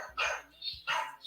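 A dog nearby barks twice, loud and sharp, with a softer yip between the two barks in a quiet morning setting.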